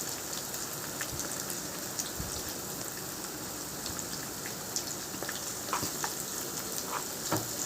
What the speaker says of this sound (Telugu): మంచిగా పచ్చివాసన అంతా పోయేదాకా ఫ్రై చేసుకోవాలి